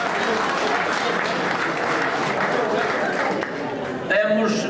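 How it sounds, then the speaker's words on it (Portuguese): Audience at a reunion gathering applauds in a dense, steady wash of clapping that carries through the whole clip, with a voice briefly heard near the end. "naturalmente, a nossa salva de palmas."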